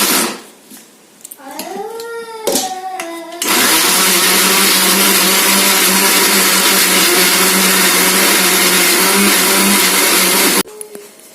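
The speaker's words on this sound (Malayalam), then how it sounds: "ഇത് നന്നായി മിക്സിയിലിട്ട് അടിക്കുക." A kitchen mixer grinder blending two bananas into a batter for banana cake, its motor roaring loud and steady for several seconds after brief starts, then cutting off abruptly.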